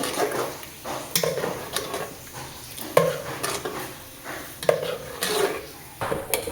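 A spoon scrapes and clinks against a pot of milk heating on a stove, in repeated close, moderately loud strokes with no talking.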